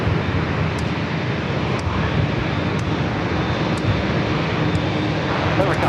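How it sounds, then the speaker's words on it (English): A Boeing 777-300ER airliner arriving from London Heathrow at San Diego airport, its jet engines roaring as a loud steady wash with wind buffeting the microphone, continuous throughout. "the 777-300ER flight coming in from London Heathrow"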